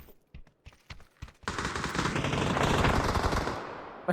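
Shotgun fire in PUBG on the Sanhok map: a few sharp separate blasts first, then a dense sustained burst of rapid gunfire lasting a couple of seconds and ending in one last shot.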